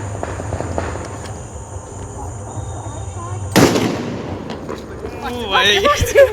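Firecracker set off by a group during Bhai Phonta festivities bursts with one sharp, loud crack partway through, followed by crackling debris and excited voices and squeals.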